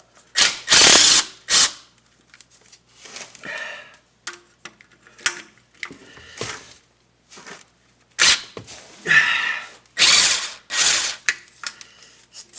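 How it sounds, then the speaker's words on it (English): An impact gun removing 10mm transmission pan bolts on a 2008 Dodge Charger, loud close bursts of rapid rattling hammering repeated several times with short pauses and smaller clicks between. "I'm just going to be using an impact gun just to speed it up."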